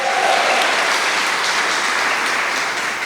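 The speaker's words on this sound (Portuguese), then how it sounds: "Você pode aplaudir Jesus bem alto, bem forte?" A congregation at a church prayer group applauds loudly, a dense sustained roar of clapping that fills the space and eases slightly toward the end.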